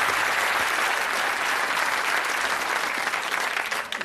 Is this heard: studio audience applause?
yes